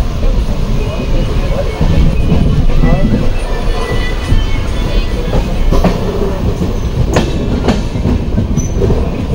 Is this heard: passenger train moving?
yes